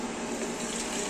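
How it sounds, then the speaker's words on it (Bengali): Hot water pours off boiled biryani rice in a steady, close rush, like a tap running into a sink, without talk. "এবার আমাদের এটা জল ঝরানোর পালা।"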